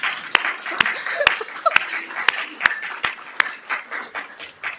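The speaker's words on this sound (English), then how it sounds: "let's clap for them." A crowd at a journalism prize ceremony claps, with sharp, evenly spaced loud hits standing out above a looser patter of hands, which fades toward the end.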